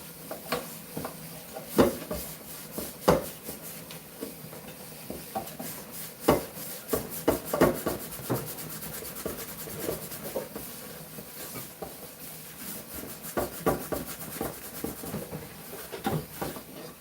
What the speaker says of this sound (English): Let's scrub it all around.